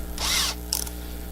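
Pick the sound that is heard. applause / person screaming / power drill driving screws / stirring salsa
power drill driving screws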